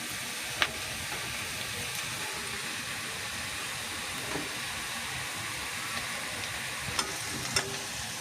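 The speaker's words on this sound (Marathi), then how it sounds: "आणि याला मंद आचेत चांगलं भाजून घ्या।" Whole cumin, cinnamon pieces and black cardamom sizzling in a pan for chicken masala, a steady even frying hiss with a few faint clicks of a spoon, no talking.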